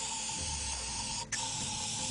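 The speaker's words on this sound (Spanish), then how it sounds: "tiramos y volvemos a limpiar con el lubricante" Steady close hiss of aerosol lubricant sprayed to flush a clutch slave cylinder, one continuous burst with a brief break near the end before the spray resumes.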